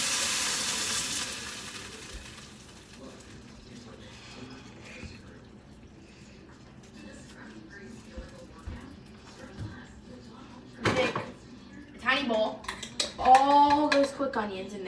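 Onions dropped into hot oil in a small pan start a bright sizzle that fades to a low steady fry, followed by clatter of utensils and a voice talking near the end.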